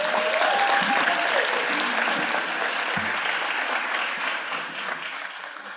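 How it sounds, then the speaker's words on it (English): An audience at a school district board of education meeting claps in sustained, dense applause that fills the room, gradually tapering toward the end, with a faint voice briefly audible underneath. "Let's give them another round of applause."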